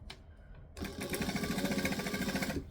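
A sewing machine stitches shirring into the waist of wrap pants. After a brief quiet start, it runs in a steady, rapid, close-up mechanical rhythm with no voices.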